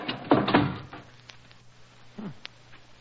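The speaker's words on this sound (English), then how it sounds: "Hurry, help me close the door before the archway falls on us." A heavy, rusty door in a crumbling stone archway swings shut, giving a scraping creak and a couple of dull thuds up close, followed by a short grinding groan and a faint knock as it settles.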